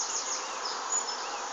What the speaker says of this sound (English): Behave yourself, bees.